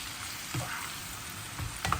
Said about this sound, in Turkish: Soğanlar sotelenirken